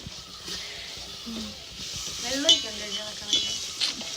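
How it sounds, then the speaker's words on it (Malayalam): Sugar melting and being stirred in a pan to caramelize it for payasam, a steady frying sizzle and hiss with soft scraping stirs and a few brief louder clinks near the end. "പായസത്തിന് ബ്രൗൺ കളർ കിട്ടാൻ വേണ്ടി പഞ്ചസാര ഉരുക്കുകയാണ്"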